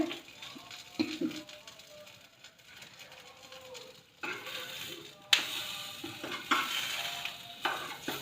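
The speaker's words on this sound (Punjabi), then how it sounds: "ਉਹ ਆਪਾਂ ਘਿਓ ਦੇ ਵਿੱਚ ਜ਼ਿਆਦਾ ਜਿਹਾ ਫਰਾਈ ਕਰਾਂਗੇ" Potato and corn tikki fry in ghee in a pan with a steady sizzle and crackle that gets louder midway, mixed with some stirring and scraping and brief faint voice.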